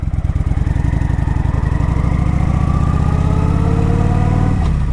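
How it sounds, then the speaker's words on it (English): A 2012 Kawasaki Vulcan 900 Classic motorcycle with a newly replaced clutch revs high in first gear while pulling uphill from a stop, its loud, close engine note climbing steadily throughout and cutting off abruptly near the end. "I got my bike in first gear. Here we go, revs high."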